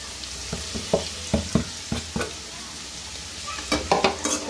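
Sliced pointed gourd and potato with chopped green chilli fry in a pan, a steady close sizzle punctuated by rhythmic spatula scrapes and stirring knocks.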